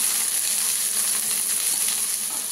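Pieces of water chestnut roast in a pan without salt, producing a steady, bright sizzle that continues evenly throughout.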